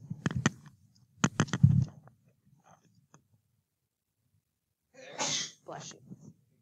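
Sneeze in a classroom during a differential equations lecture, a sharp bursty outburst near the start followed by a quieter second burst a few seconds later, with faint room noise in between.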